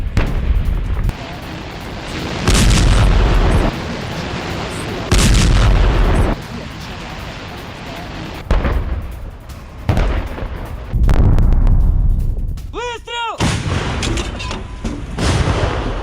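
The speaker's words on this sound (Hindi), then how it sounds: "आर्टिलरी से यूक्रेनी ठिकानों पर अटैक किया गया।" Russian artillery fires on Ukrainian positions in a series of loud, heavy booming blasts, several seconds apart, with rumbling noise between them and a brief rising whine late on.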